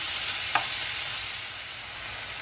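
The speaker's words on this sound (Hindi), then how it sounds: "भून लेते हैं इसे अच्छे से, सॉफ्ट कर लेते हैं।" Tomatoes sauté in hot oil for paneer kolhapuri, giving a steady, even sizzle with one faint tap of a utensil partway through.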